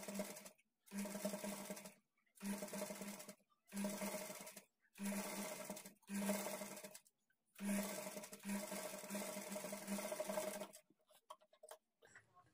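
A sewing machine stitches blouse fabric in repeated bursts of rapid, even whirring, about six runs separated by short pauses, then fades into light handling noises at the end.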